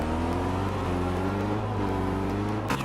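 V8 Supercars racing engines in qualifying drone as one steady, loud, continuous roar with stacked harmonic tones, slowly shifting in pitch, with a brief louder burst near the end.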